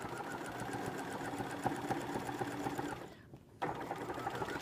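A sewing machine stitches quilt pattern pieces in a steady fast mechanical patter, close and moderately quiet, with a brief pause near the end before it resumes.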